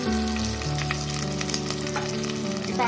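Ground onion and tomato paste sizzles and fries steadily in a clay pot for mutton curry, a dense close crackle with light stirring scrapes throughout.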